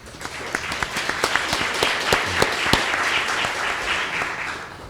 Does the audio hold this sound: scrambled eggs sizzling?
no